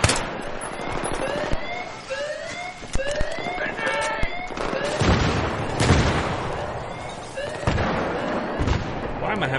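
Single-shot gunfire from a weapon in the Battlefield 3 video game on an urban street map, with repeated sharp shots at irregular spacing over a dense battle mix of explosions and siren-like tones, loud and close.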